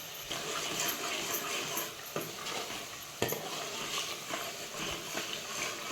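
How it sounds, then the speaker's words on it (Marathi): Khengat masala being stirred in oil in a pan, giving a continuous sizzle with repeated scraping and knocks of the spoon against the pan. "हे असं हटवून घ्यायचं"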